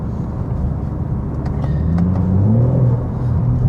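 A BMW G80 M3 Competition xDrive's exhaust burbles on let-off. It makes a loud, close, low rumbling drone that swells and shifts pitch, with faint crackle above it.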